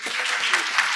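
An audience bursts into steady, dense applause for Gordon Price at an urbanism talk, the clapping filling the whole second at close range with no pause.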